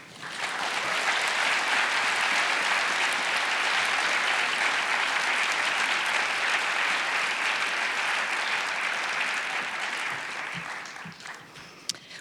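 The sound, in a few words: audience applause for book award finalists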